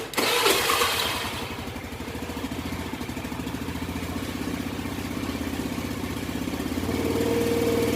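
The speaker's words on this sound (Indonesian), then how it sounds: "Lalu selanjutnya kita akan hidupkan mesinnya." A motorcycle engine cranks and fires up, then settles into a steady, rapid idle chugging close by for several seconds.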